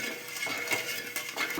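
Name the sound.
stirring sugar syrup in a pan for Mysore pak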